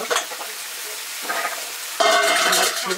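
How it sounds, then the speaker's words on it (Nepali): Food fries in ghee in a pan in a rural Nepali kitchen, a close crackling sizzle with stirring scrapes, growing louder and fuller in the final second, no talking. "घिउमा यसरी भुट्ने"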